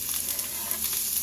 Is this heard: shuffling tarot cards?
no